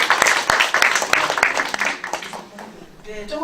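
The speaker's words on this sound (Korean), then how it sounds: "박수로 모시겠습니다." Audience applause greets a committee chair at a candidate debate held by a Seoul parents' association for people with disabilities, a dense clatter of many hands that fades toward the end as a voice begins.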